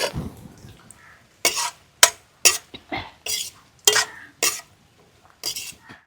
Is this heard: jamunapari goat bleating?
no